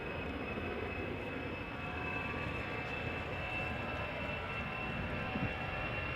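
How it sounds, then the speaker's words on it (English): Steady roar of an Airbus A319's jet engines departing Amsterdam Schiphol Airport, a constant broadband rumble with a faint high whine, heard at close range without pause. "Airbus A319 going to London Luton in a few moments."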